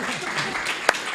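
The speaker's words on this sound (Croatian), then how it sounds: "ja molim stvarno za još jedan aplauz za Boru našeg" Audience applause for Bora at a book promotion evening, a brief burst of clapping from a seated crowd that swells and then tapers off, with a voice faintly over it.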